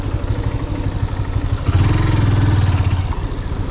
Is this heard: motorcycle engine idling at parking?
yes